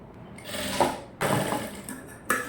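A sewing machine runs in short, separate bursts while slowly stitching a curved seam through lining and main fabric for a short gown, each run close and clear with brief pauses between.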